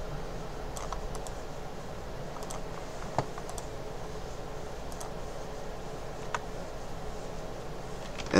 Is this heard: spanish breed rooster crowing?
no